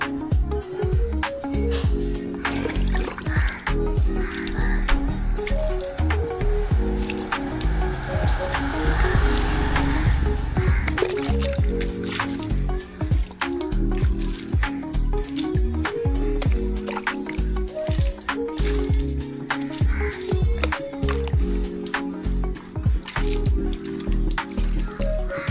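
A Yezdi Adventure motorcycle is being washed, with close, irregular water drips, splashes and wet squishing sounds over a continuous watery background for about twenty-five seconds.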